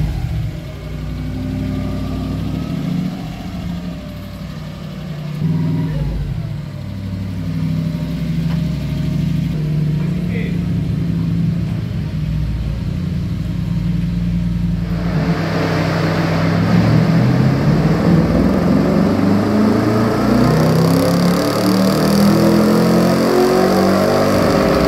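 A Toyota Hilux engine runs on a dyno at operating temperature. It starts with a low idle and rumble, then climbs into a loud, sustained revving pull in the second half, close and without speech.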